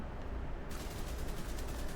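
Rapid automatic gunfire from The Division 2, a steady dense stream of shots with a brighter, harsher burst pattern kicking in partway, fairly quiet and without talk.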